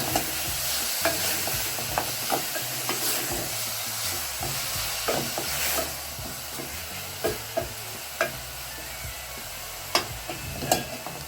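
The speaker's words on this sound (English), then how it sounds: "So you can see it's already cooking in its own juices" Washed, salted beef stewing in its own juices in a pot for carrot rice, giving a steady close sizzle and hiss broken by occasional small pops and clicks.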